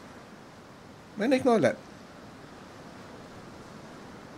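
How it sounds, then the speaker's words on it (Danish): Big ocean waves in the Ylands video game make a steady, broad wash of surf that runs through the whole stretch, with someone briefly speaking over it. "Store bølger."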